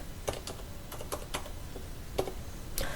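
Computer keyboard typed on while entering Excel pivot table labels, with scattered keystroke clicks in an irregular rhythm over a steady background hum, close and moderately loud, no talking.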